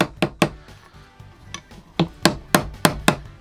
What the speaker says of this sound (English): I'm really lightly tapping it and just letting the hammer drop on its own weight almost